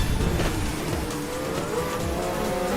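Race cars roar close together in a racing video game, engines whining and shifting pitch as they jostle to overtake, a loud continuous drone with no talk.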